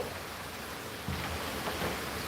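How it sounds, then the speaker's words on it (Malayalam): Steady rain pours through a rainy evening, a continuous broadband hiss with a slight rise in intensity partway through, close and fairly loud, with no voices. "മഴ ആസ്വദിക്കാം"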